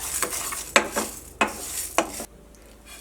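Horse gram dry-roasting in a pan until brown, giving a soft continuous sizzle broken by three or four sharp crackling pops, then quieter near the end.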